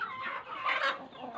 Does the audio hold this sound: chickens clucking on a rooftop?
yes